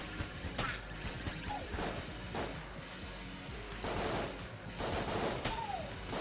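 Repeated shell gun blasts from Enter the Gungeon, a run of loud shotgun-like bursts spaced through the clip over a busy backdrop of game effects, with no talking.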